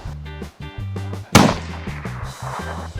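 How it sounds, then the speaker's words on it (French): A single sharp, loud rifle shot from a Remington Mohawk 600 fitted with a Tasco scope, fired outdoors while sighting it in, ringing out over steady background music or hum. "Je vais essayer d'ajuster ma nouvelle carabine. C'est une Remington Mohawk 600."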